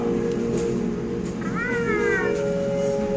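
A cat meows with rising, wavering tones near the middle of the clip, over a steady hum and background noise at an outdoor food spot during Holi in Delhi.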